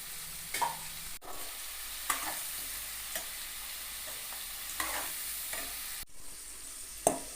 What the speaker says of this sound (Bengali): আলুটাকে লাল করে ভাজতে হবে